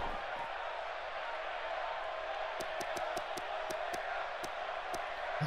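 Wrestling arena crowd in WWE 2K18, a steady loud roar of cheering spectators with a series of sharp rhythmic claps or stomps near the end, while someone talks over it.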